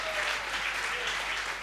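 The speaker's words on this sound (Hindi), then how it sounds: "एक बार तालियां जरा मिलके बजाएंगे तो अच्छा लगेगा साहब" A live audience at a Hindi comic poetry (hasya kavi) show claps together, a steady dense wash of applause held evenly from start to finish.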